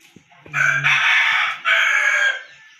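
A rooster crows loudly and close by, a long two-part cock-a-doodle-doo preceded by a few soft clucks.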